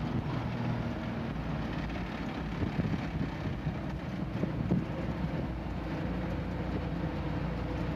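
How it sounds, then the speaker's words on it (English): Cool wind blowing outdoors along a road in a wooded area, a steady broad rushing noise buffeting the microphone with faint low rumbling underneath, continuous for the whole stretch with no talking. "Boy, it's nice when that cool wind hits you."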